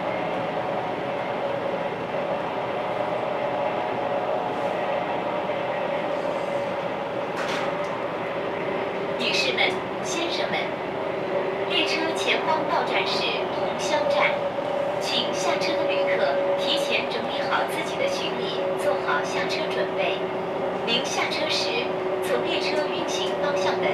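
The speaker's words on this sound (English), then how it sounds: "And it's a fast train as well, no more slow, horrible sleeper trains." Steady rumble and hum inside a high-speed train bound for Shanghai in China, with faint rattles and clicks over the constant cabin drone and no talking.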